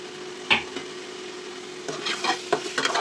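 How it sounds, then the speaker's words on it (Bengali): A spoon scrapes and stirs food in a pan, with a few distinct scraping strokes over a soft background sizzle and a steady low hum. "এখন জাস্ট নাড়াচাড়া"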